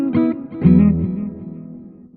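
A few plucked electric guitar notes through a Positive Grid Spark amp with reverb turned up ring out and decay into a lingering reverberant wash that fades over a couple of seconds.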